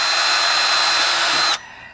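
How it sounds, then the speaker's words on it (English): A power drill bores holes through a canvas board, giving a loud, steady high-pitched whir that runs for about a second and a half before cutting off abruptly. "And then drill a couple holes on one side."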